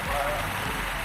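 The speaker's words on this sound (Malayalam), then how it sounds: "ഇപ്പം മഴ പെയ്തുകൊണ്ട് നല്ല സ്ലിപ്പാവുന്ന" Rain falls on a rural path heading toward rice fields, a steady broadband hiss that fills the whole moment without pause.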